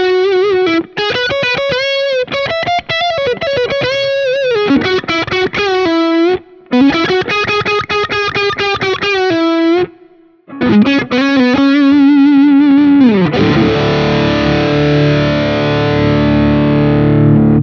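A Dean Gordon Mirus-6 electric guitar played through heavy distortion and modulation effects, with loud sustained riffs and bends, a few brief gaps, and a final ringing chord that decays, with no talking.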